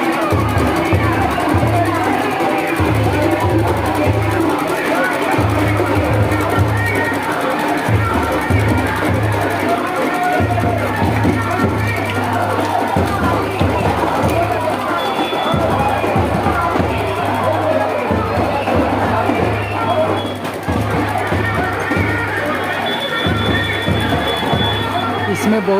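A dense crowd at a Muharram procession fills the air with constant babble and murmur, with a low rhythmic drumming pulse underneath; someone talks close by over the din.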